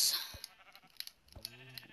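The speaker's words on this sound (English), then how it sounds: "White sheep!" White sheep bleating in a video game: two short bleats, the first near the start and a second, clearer wavering one partway through, over soft game sounds, with a brief voice at the very beginning.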